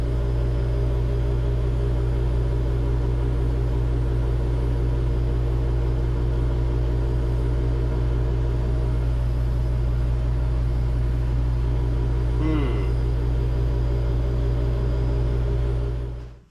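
Chinese diesel heater burning a 50/50 mix of gasoline and waste oil, a steady low droning hum and rumble with a brief clatter near the end before it cuts off.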